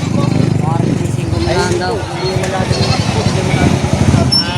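A male goat at a busy goat market bleats in wavering cries amid loud nearby chatter, with an engine rumbling underneath.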